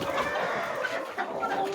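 Chickens on a small local poultry farm cluck and cackle close by, a busy overlapping flock chatter with short repeated calls and no talk.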